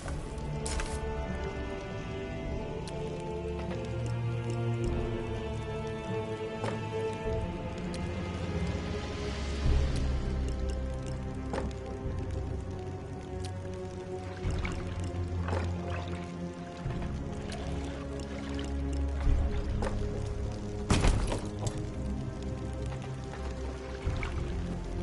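Water running from a shower faucet in Dungeon Master, a continuous liquid splash and drip that carries on steadily, with a few sharp clicks breaking through.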